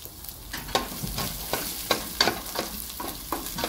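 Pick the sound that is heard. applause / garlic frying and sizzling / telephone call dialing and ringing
garlic frying and sizzling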